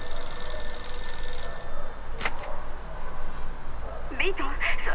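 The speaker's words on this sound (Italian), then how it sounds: "Dio, il telefono." A telephone rings inside the video game Mafia 2, a short ringing burst heard over steady game background noise, followed by a voice talking near the end.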